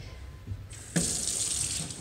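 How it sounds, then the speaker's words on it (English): A sink tap is turned on to wash clay off hands, the water starting with a soft click and then running as a steady, close rushing hiss. "When you turn the water on and you start first by rubbing your hands"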